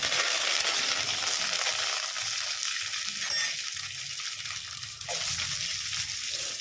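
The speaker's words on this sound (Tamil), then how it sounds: "கடுகு பொரிஞ்சிடுச்சு. இப்போ கருவேப்பிலை போட்டுடலாம்." Curry leaves hit hot oil with spluttered mustard seeds, producing a steady, close, loud hiss of sizzling with small crackles and pops throughout.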